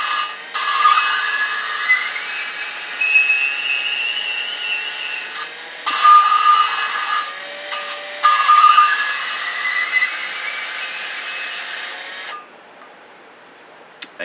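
Engine valve being lapped into its seat with a drill, a loud continuous rubbing whine whose pitch rises and sings, broken by a few short pauses before it stops near the end.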